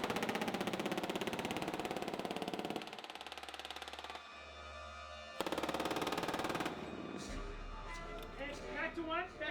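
A 240 Bravo machine gun fires loud, rapid sustained bursts on a film set, two long strings of automatic fire separated by a pause, with an engine rumble and background noise in between.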